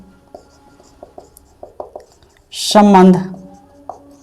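Chalk or marker taps and scratches on a board while maths is worked out, a scattered rhythm of short, faint strokes, paused briefly while someone speaks over them.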